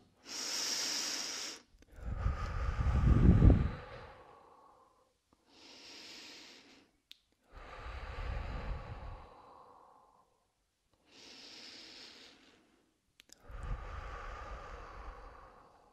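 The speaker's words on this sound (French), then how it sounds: "je vais prendre trois profondes respirations" Three slow, deep breaths taken during a children's guided meditation for calming emotions, each a long audible inhale-exhale sigh close to the microphone, separated by short pauses, with no talking.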